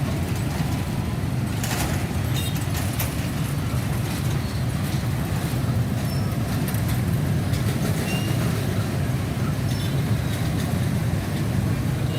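A steady, heavy rumble of a train rolling past nearby at a level crossing, continuous low-frequency roar with clattering and a few brief higher squeals, no talk.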